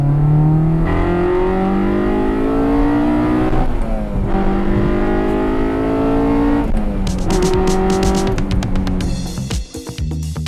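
A Honda CR-X Si engine revs hard through the gears past the 5,000 rpm VTEC crossover, pitch climbing with each pull and dropping at shifts, loud and continuous, ending with a rough, sputtering burst.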